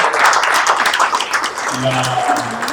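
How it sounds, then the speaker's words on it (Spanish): An audience at a conference on international relations applauds after a talk, brisk clapping at moderate volume that carries on while a person speaks over it near the end. "le damos un gran aplauso a Fernando."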